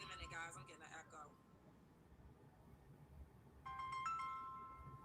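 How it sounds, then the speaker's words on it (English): A phone rings with a short melodic electronic ringtone, two brief bursts a few seconds apart, faint and slightly distant in a quiet room. "my phone was trying to ring"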